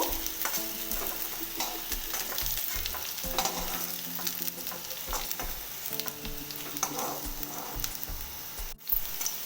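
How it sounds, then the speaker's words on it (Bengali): Continuous sizzle of potatoes frying until browned, with repeated scraping and stirring strokes of a utensil in a pan, close and steady throughout, with a brief knock near the end. "বারবার করে নাড়াচাড়া করতে হবে আলুটা লাল লাল করে ভাজা হয়ে গেছে"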